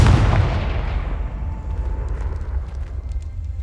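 Confringo fire spell explosion in the Hogwarts Legacy video game: one heavy booming blast at the start that rumbles and decays over several seconds, with faint crackles after.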